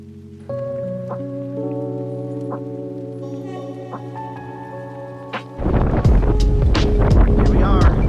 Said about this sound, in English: We got 22 knots of wind.